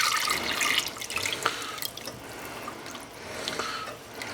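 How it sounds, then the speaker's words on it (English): Chicken broth strained and poured in a home kitchen, heard as close splashing, trickling and dripping liquid with irregular splatters throughout, with no talking. "My broth has cooled down. I'm going to strain it."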